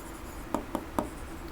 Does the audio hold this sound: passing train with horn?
no